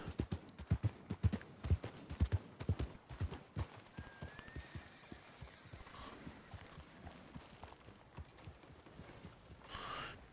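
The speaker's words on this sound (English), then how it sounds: "That's the horse." Horse hooves clip-clop in a steady, fairly loud rhythm in a western bounty-hunting video game, slowing and fading, with a brief whinny and faint ambient sounds toward the end.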